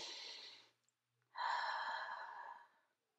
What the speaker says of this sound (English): Close your eyes and take 3 soft, slow, mindful breaths.